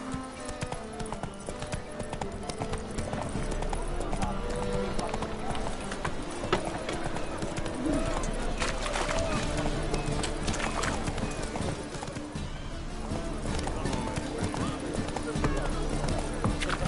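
The horse Roach trots in The Witcher, hooves clip-clopping steadily and close beneath continuous game sound, with a voice speaking over it.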